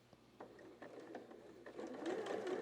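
A sewing machine stitches steadily around the outside of a self-binding tarot mat, its rapid mechanical whir rising and growing louder toward the end, with no voices over it.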